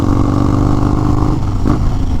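A 2021 Harley-Davidson Street Bob 114 motorcycle rumbles loud and close while riding, a steady deep V-twin drone with a slight shift in pitch near the end, no talking.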